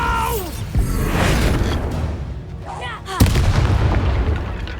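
Spell explosions from the Bombarda charm in Hogwarts Legacy, a wizarding video game: booming blasts that land close and loud, one sharp hit near the middle, among busy whooshing spell effects and game sounds.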